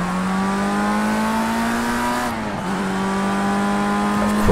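Formula Rookie race car at the Algarve circuit in Project CARS 2, its engine whining at high revs, then dropping in pitch under braking before climbing again, loud and continuous.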